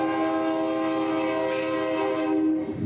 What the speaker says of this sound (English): Here comes the train again, so I apologize for that.